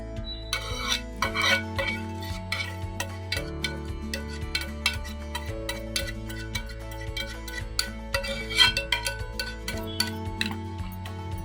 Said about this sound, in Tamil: நல்லா மிக்ஸ் பண்ணிக்கிட்டே இருக்கணும்.